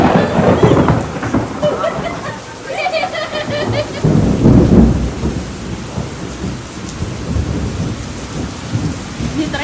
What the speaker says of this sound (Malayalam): നല്ല മഴ ഇടി മഴയിടി